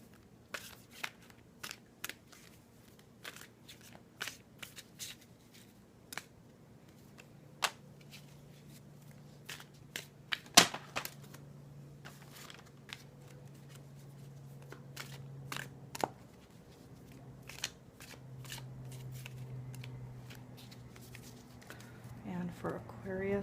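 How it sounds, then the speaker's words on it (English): Soft, repeated riffling and tapping of archetype cards being shuffled, quiet and close, with brief pauses between bursts. "I am shuffling the Carolyn Mace archetype cards"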